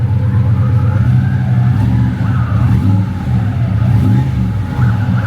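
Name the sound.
muscle car engine revving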